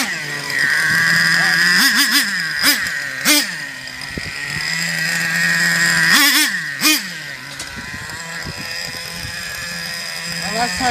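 A Traxxas Revo 3.3 nitro RC truck engine screams nearby, holding a loud, high-pitched buzzing whine broken by several sharp rising and falling revving bursts.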